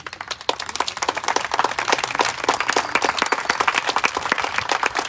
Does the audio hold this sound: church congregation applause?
yes